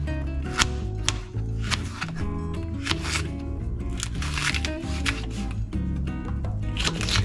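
Knife slicing bell peppers on a cutting board, a quick series of crisp, crunchy cuts close up, laid over continuous background music.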